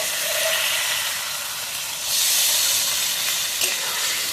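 Water poured into a hot pan of rohu fish kalia curry hits the oil with a steady hiss that swells into a louder, brighter sizzle about halfway through and stays close and continuous, with no talking.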